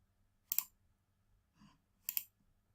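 Mouse clicks while adding a countdown timer element in a ClickFunnels page editor, two crisp close clicks about a second and a half apart with a faint softer tap between them, otherwise near silence.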